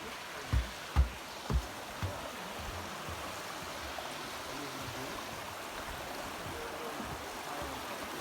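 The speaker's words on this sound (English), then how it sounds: "Another gorgeous creek here." Creek flowing along the Manistee River Trail, a soft steady rush of water at moderate distance, with a few low thumps near the start, probably footsteps or handling noise.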